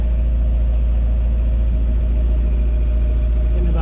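A sailboat's motor runs steadily while the boat motor-sails, giving a loud, continuous low engine drone with an even rumble and no break.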